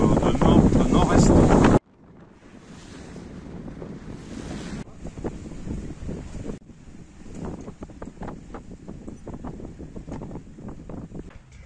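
Sailing with a north-east wind: a loud burst of wind buffeting the microphone, then steady surf and waves washing around the boat, a gusty broadband rush throughout.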